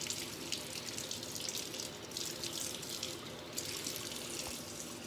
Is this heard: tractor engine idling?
no